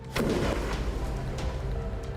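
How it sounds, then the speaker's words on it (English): A faulty Takata car airbag bursts with a sharp explosive bang in a test rig instead of inflating normally, followed by a rumbling decay and lingering noise for about two seconds, with no voices. "But instead of inflating, it explodes. Looks like it failed catastrophically."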